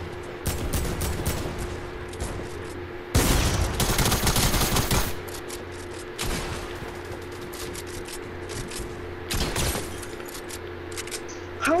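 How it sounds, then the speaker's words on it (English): Rapid bursts of suppressed SCAR rifle fire in a shooter video game, sharp repeated volleys with one dense, loud stretch in the middle and scattered shorter strings of shots around it. "That was a suppressed scar."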